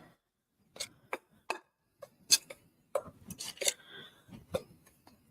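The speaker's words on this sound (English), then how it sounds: "I'm just going to stir this all together" Sugar being stirred into a shortbread mixture in a bowl for cranberry white chocolate shortbread, heard as a string of sharp, irregular clicks and scrapes of a utensil against the bowl, close and quiet, with no talk.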